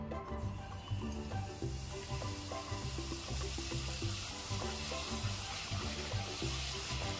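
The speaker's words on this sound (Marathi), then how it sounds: "आपण आता कडाकण्या तळून घेऊया" Kadakani, a sweet fried dough snack, fries in hot oil. A continuous crackling sizzle runs steady and close beneath background music.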